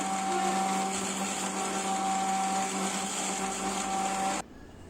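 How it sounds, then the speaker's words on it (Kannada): A kitchen mixer grinder whirs loudly and steadily as it coarsely grinds grated coconut, green chillies, coriander, tamarind, garlic and gram for a chutney-like paste, then cuts off abruptly near the end. "ಕಾಯಿ ತುರಿ ಹಾಕೋತಾ ಇದ್ದೀನಿ, ಹಸಿರು ಮೆಣಸಿನ್ಕಾಯಿ, ಕೊತ್ತಂಬರಿ ಸೊಪ್ಪು, ಹುಣಸೆಹಣ್ಣು, ಬೆಳ್ಳುಳ್ಳಿ, ಕಡಲೆ ಮತ್ತು ಮೆಣಸನ್ನ ಹಾಕ್ಕೊಂಡು ನುಣ್ಣಗೆ ರುಬ್ಕೋಬೇಡಿ"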